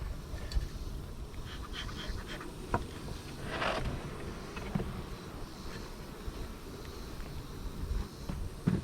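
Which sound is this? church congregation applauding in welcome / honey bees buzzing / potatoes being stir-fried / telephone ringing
honey bees buzzing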